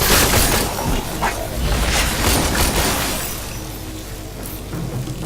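Turret in the shooter Warframe being shot apart during co-op play, heard as loud booming impacts and shattering, breaking crashes that fade into a lower mechanical rumble.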